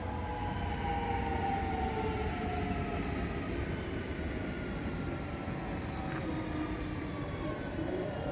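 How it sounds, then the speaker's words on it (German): A DB class 440 solo-unit regional train of DB Regio Bayern's Main-Franken line pulls into platform 3, its motor whine and rolling rumble steady and fairly close, with a rising electric tone toward the end. "auf Gleis 3 fährt die RB53 von Jossa Richtung Bamberg ein"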